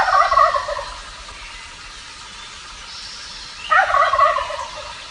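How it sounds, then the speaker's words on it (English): Wild turkey tom gobbling twice, each a loud rapid warbling rattle about a second long, separated by a few seconds of quiet outdoor ambience. "maybe the most distinctive and iconic feature of a turkey is its gobble"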